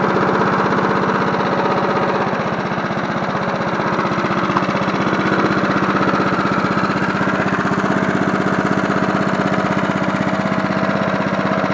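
A 1980s John Deere NO20K push lawn mower's small engine runs steadily and loud from start to finish, a continuous buzzing drone with a fast, even firing rhythm and no talking over it.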